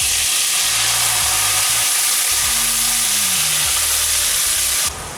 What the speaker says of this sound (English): I'll start frying it now.